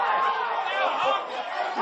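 Crowd at a men's NPL football semi-final, Moreton City Excelsior against Eastern Suburbs, as a steady murmur of many voices whose chatter swells slightly, with a few individual shouts standing out from the mass.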